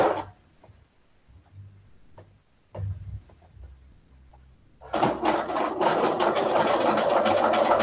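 A sewing machine stitches fabric with a small seam allowance. A few quiet handling knocks come first, then the motor starts and runs as a loud, steady whir.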